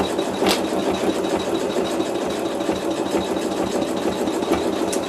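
A sewing machine run at a slow speed stitches lines across pleated fabric, giving a steady low mechanical whir with soft repetitive needle ticking throughout, close and moderately loud.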